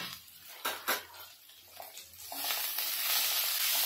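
Fresh coriander sizzling in a pan with roasted garlic, ajwain and sesame seeds, a soft steady frying hiss that swells louder toward the end, with a couple of brief stirring clinks early on.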